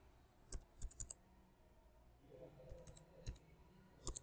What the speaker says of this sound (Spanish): Y digito de nuevo mi contraseña.